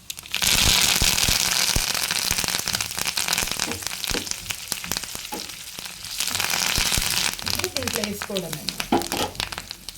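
Curry leaves, dried red chillies and turmeric sizzle and crackle in hot oil, with loud, dense popping and spitting throughout and a voice talking over parts of it.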